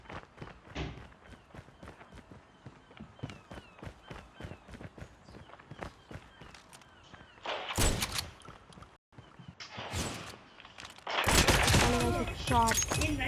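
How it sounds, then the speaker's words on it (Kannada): Rapid bursts of electric gun fire in Call of Duty, dense clicking volleys with footsteps, growing into loud sustained blasts near the end, no talk. "This is electric gun."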